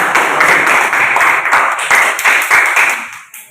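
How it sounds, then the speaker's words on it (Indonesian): A classroom of students applauds group 2, with dense, steady hand clapping close by that carries for several seconds and then tapers off near the end. "kita beri aplaus untuk kelompok 2 dulu"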